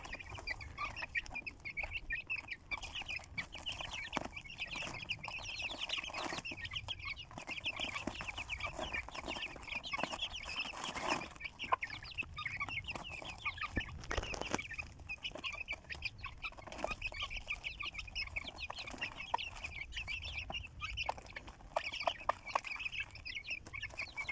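Chickens and roosters cluck steadily in a snowy Turkish farmyard, a dense, continuous chorus of hens with occasional louder calls, no talking over it.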